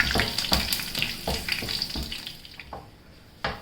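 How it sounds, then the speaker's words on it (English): Curry leaves and red chilies frying in hot oil over a low gas flame, a steady crackling sizzle with spoon scrapes and occasional sharper pops, close and fairly loud. "Red chilli is fried."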